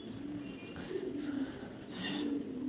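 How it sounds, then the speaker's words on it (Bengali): Pigeons coo on a quiet morning street in Darjeeling, a soft, low, rolling cooing that repeats a few times at moderate distance with no talk. "গুটি গুটি পায়রার আওয়াজ শুনতে হচ্ছে, পায়রার আওয়াজ"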